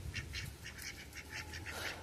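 Ducks quack in a rapid, overlapping series of short nasal calls, fairly close against a low outdoor rumble.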